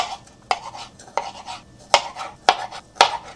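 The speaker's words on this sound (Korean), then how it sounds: "샤인머스켓은 얇게 슬라이스를 일단 해줍니다." A knife slices thin rounds of Shine Muscat grapes on a board. It cuts in a slow, uneven rhythm, about six crisp taps against the board, close and fairly quiet, with no talking.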